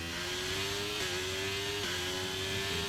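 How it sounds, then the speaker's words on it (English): A Ferrari Formula 1 engine in the racing game F1 23 screams at high revs, held near the limiter, with brief pitch dips like gear shifts, loud and continuous. "The Ferrari engine, of course."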